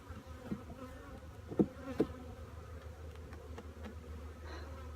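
Honeybees at a hive hum in a low, soft, continuous drone, with a few louder buzzing passes close by.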